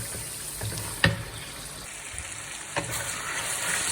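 Chicken karahi with tomatoes fries in separated oil, a constant moderate sizzle broken by a couple of sharp stirring knocks against the wok.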